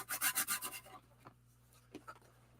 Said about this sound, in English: Just a little sand with my sanding tool.